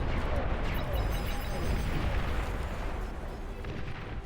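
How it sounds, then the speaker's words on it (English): Catapult shots in a strategy video game, heard as a continuous rumble of heavy impacts and booming explosions, with a player's voice talking over the battle. "Oh, these catapults coming in hard"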